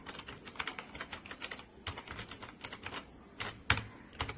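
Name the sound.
typing on Redragon K552 mechanical keyboard with red switches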